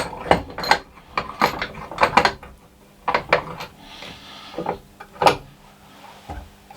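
Golf club shaft, stripped clean of its old grip tape, being clamped into a bench vise: a series of close, sharp metallic clicks and ratcheting knocks in uneven bursts, with brief pauses between.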